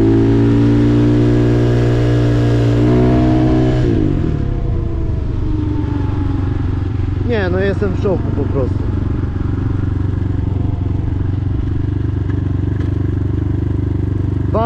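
A Chinese RFZ 250 motorcycle engine revs loudly up close, its steady drone rising and falling briefly around the four-second mark, while someone talks over it throughout.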